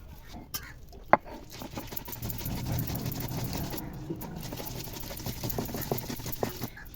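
Dried red chillies, green chillies, white cumin and poppy seeds are ground together into a paste, making a faint, continuous rattling, whirring grind with scattered small knocks.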